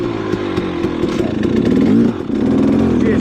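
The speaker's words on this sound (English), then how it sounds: "She is full blown two-stroke, baby." A two-stroke 300 XC dirt bike engine revs loudly up close, rising to a raspy peak, dipping briefly, then climbing again in a buzzing, crackling snarl.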